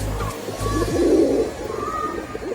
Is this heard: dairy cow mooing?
no